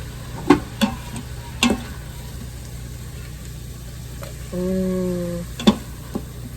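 A spoon scoops vegetables out of an Instant Pot into a bowl, giving a few sharp, widely spaced clinks against the pot, with a short electronic tone sounding partway through.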